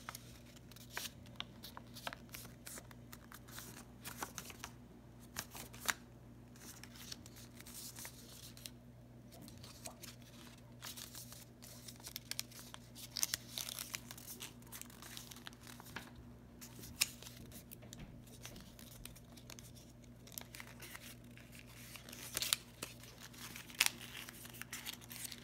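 Sheets of paper being creased and folded into a corner bookmark, giving soft, intermittent crinkles and rustles over a steady low hum, close by with no voices.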